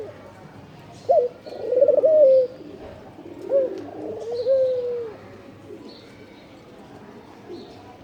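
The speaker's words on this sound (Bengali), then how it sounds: "যেটা ঘুঘু পাখি হাসে" A dove near a rooftop gives a few loud, close rolling coos in short bursts, then fainter calls trail off, with soft background noise between them.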